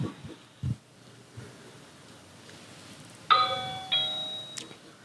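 A home doorbell camera picks up a doorbell chime ringing twice in quick succession, bright ringing tones over a quiet background after a few soft thumps.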